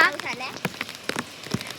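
Rain pattering steadily on a hard open terrace nearby during the season's first rain, with scattered sharper drops and splashes.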